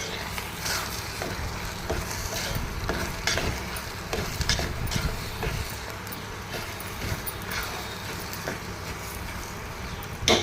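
Chakra pongali with fried cashews and raisins is stirred in a pot: repeated scraping and clacking strokes of a spoon over a faint sizzle, fairly close and steady.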